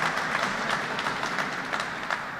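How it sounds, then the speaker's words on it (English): Applause at an outdoor groundbreaking ceremony in Frankfort, Kentucky: a moderate, fairly distant wash of scattered hand claps from a small crowd, steady and unbroken, with no talking over it. "I know Penny's clapping for that."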